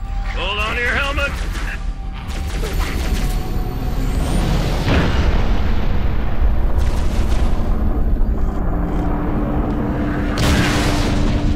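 Artillery fire support explosions in Halo: Reach, deep rolling booms and crashing impacts building into a heavy sustained rumble, with radio-style voices talking over the barrage.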